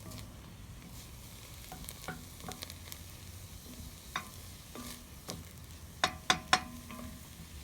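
Vegetables for a chicken pot pie sweating in a pan, a quiet steady sizzle with intermittent scraping stirs and a few sharper utensil clacks near the end.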